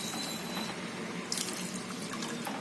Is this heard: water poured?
yes